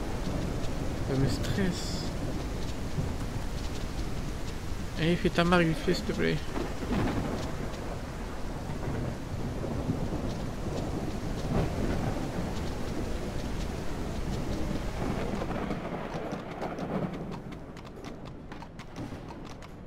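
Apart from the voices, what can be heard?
rain and thunder in video game Ranch Simulator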